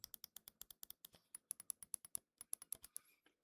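Crisp clicks from a Finalmouse ULX Frostlord mouse: about twenty sharp, evenly paced presses of the main, wheel and side buttons, heard close and alone in a quiet room.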